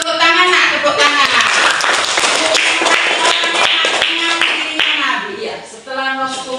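Children in a religious lesson clapping hands together on cue, a burst of sharp, fairly close claps mixed with young voices and an adult talking over them.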